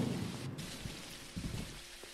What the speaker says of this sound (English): Switching a tire out in the middle of rain.